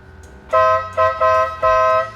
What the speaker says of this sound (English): So show you the regular horn first.